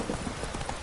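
Horse hooves clip-clop in a quick, even rhythm in The Witcher video game, a brief close burst of trotting steps over a dense background.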